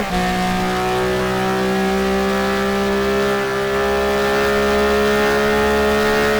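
Porsche 997 race car engine heard onboard in a GT2 racing game at Spa, a loud steady high-revving drone with strong harmonics holding near-constant pitch throughout, no talk over it.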